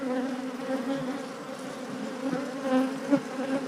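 Agitated honeybees buzz around a hive frame, a dense steady drone close by with small swells and a few sharper whines, and no talk.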